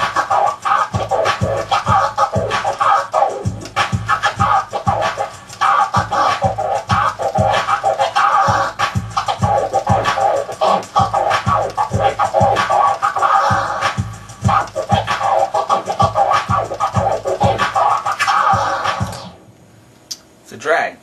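Drag scratches on a vinyl record worked back and forth by a DJ over a beat, loud and continuous with rhythmic strokes repeating for about twenty seconds before cutting to near silence.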